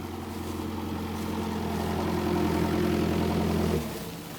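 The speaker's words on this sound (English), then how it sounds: "Here comes the tractor." Tractor engine running in a cork field, a steady low diesel rumble that builds slightly, then drops off near the end, close and alone without talk.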